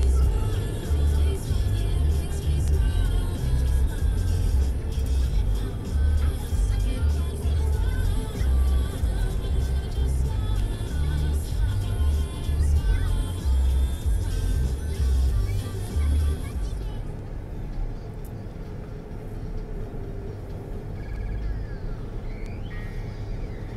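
A car cruising along a road, heard from inside as a steady loud low rumble of engine and tyre noise that eases slightly toward the end, with a voice speaking faintly underneath at moments.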